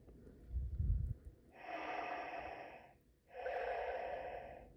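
Darth Vader's mechanical breathing from a LEGO Star Wars 75421 Darth Vader's TIE Fighter toy: a short snort, then two long hissing breaths in and out, faint and close, with a pause between them.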